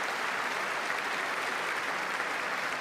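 Steady, dense applause from a large crowd in a congressional chamber during a State of the Union address, sustained at an even level for a few seconds with no talk over it.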